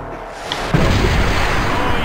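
A sudden booming blast kicks in and gives way to a sustained roaring rush, like a rocket launching, as a home run sound effect in the baseball game Triple Play 2001.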